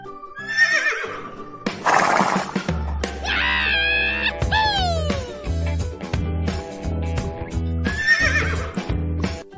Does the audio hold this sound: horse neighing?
yes